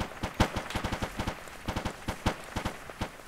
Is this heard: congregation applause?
no